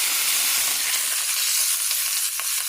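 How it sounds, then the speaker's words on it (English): Butter melting and frying in a cast iron skillet gives a steady, close sizzle with faint crackles throughout, and no voices are heard. "melt them in your cast iron skillet"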